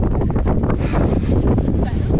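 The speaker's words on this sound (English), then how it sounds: "It's windy" Gusty wind buffets the microphone on a Lake District mountain summit, a loud continuous roaring rush for a couple of seconds.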